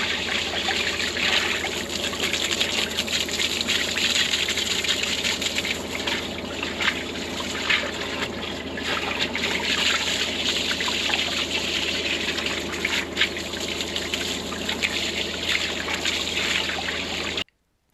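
Water sloshes and trickles steadily around a domestic tank manhole during an annual tank emptying, a continuous close wash of gushing liquid with no talking.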